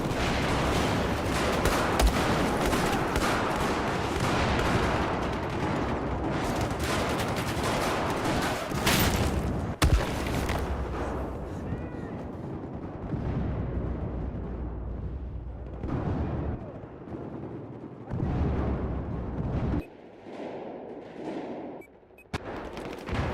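Sustained gunfire from Battlefield 4 on PS5 Pro, loud and dense bursts with explosive booms that thin out toward the end into scattered shots.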